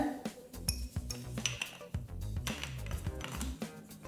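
Light clinks and taps from handling a borosilicate glass bottle with a bamboo cap, a few close, irregular knocks and rattles, with no speech.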